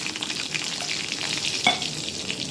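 Steady hiss and crackle of eggs frying in hot oil, with a brief louder pop partway through.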